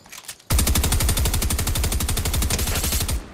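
Rapid automatic gunfire from a weapon in the video game Fortnite, a sustained burst of evenly spaced loud shots starting abruptly and running about three seconds, with a brief quieter sound just before.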